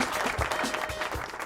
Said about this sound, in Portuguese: palmas pra Laís